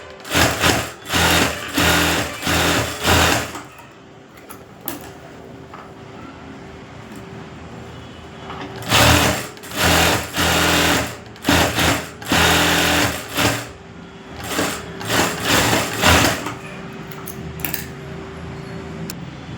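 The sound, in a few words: sewing machine stitching sleeve seams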